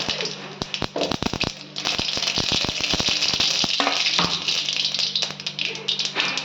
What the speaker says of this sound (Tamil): எண்ணெய் காஞ்சிருச்சு கொஞ்சம் கடுகு போட்டுக்கோங்க